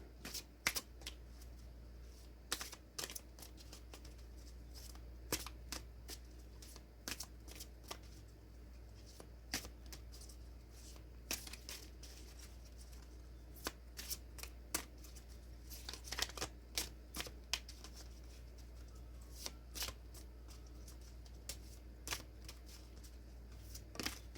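Oracle deck cards being shuffled by hand: a quiet, steady run of soft papery riffles and flicks with short crisp bursts, continuing throughout over a low background hum, with no talking.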